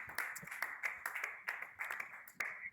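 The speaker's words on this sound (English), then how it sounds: "Yeah, let's clap." An audience at a Ghanaian tobacco-policy launch event claps in several uneven bursts, each swell of many hands rising and falling irregularly over a few seconds, moderately close and without talk.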